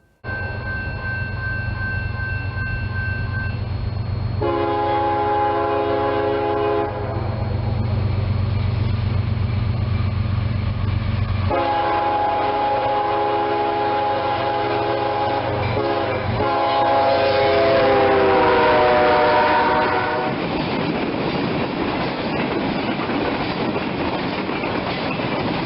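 A long coal train rumbles past at close range, its loud horn sounding in long tones over the steady clatter of wheels on rails.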